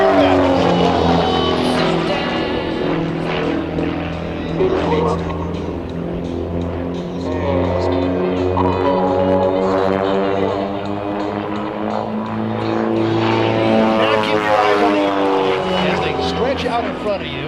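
Aerobatic airplanes from Redline Airshows roar past at the NAS Key West airshow, a loud sustained engine drone whose pitch sweeps as they approach and pass, with an announcer talking over it throughout.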